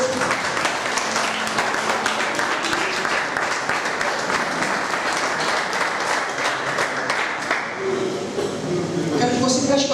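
A church congregation applauding during a sermon, a dense steady wash of many hands clapping that fills the space for the whole stretch, with voices calling out faintly beneath it.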